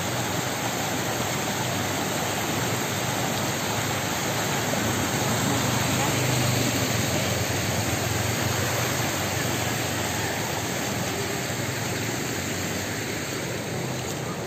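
Floodwater rushes through a flooded village, a steady loud roar that holds unbroken for the whole stretch, with faint voices and passing traffic blended into the wash.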